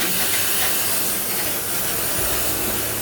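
Disinfectant cleaning spray hisses in a steady, loud, continuous burst lasting about three seconds, close by and with no talking.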